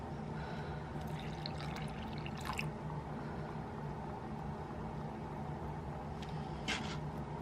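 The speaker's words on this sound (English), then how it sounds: "So I'm gonna pour it in." Urine poured into a cup indoors makes a faint, quiet liquid trickle and drip over a low, steady background hum, with no talk.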